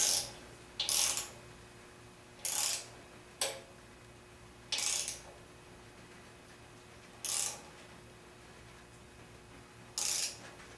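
A torque wrench ratchets while tightening engine studs on a Volkswagen 1915 engine, giving short, crisp clicking bursts at uneven intervals of one to three seconds, close up in a quiet room with a faint steady hum underneath.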